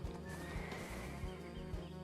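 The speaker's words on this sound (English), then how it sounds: "Luckily this horse has double jump." A horse in the online game Black Desert Online neighs while its hooves clop in a quick, regular rhythm, loud and close against a dense game soundtrack.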